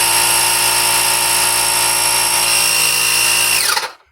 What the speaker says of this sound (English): and you can hear the compressor